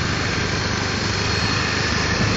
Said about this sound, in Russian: Вот мой байк.